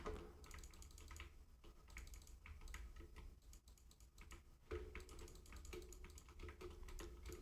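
A loud computer mouse clicking rapidly during a Minecraft session makes a dense, continuous clatter of close clicks that barely pauses, with a slight surge partway through.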